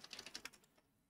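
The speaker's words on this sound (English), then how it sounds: "we're going to type in the URL bar" Fingers typing a web address on a computer keyboard, a quick run of about eight light, close key taps over half a second before it falls quiet; no talking.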